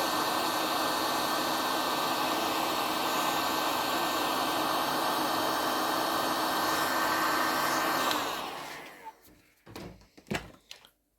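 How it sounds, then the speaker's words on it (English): A hairdryer on its high setting, used to melt wax into gear, blows a steady whooshing roar up close for about eight seconds, then shuts off, followed by a few faint knocks and handling clicks. "If it's a hairdryer, put it on high setting."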